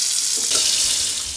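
A kitchen sink tap in a lakeside cabin runs fresh well water in a steady hissing stream, close and continuous, with no voices.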